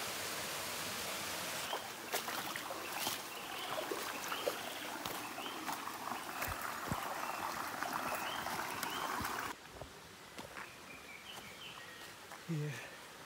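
Water at a swimming falls rushes as a broad, steady roar that drops to a softer flow partway through. Faint voices and a bird call can be heard over it.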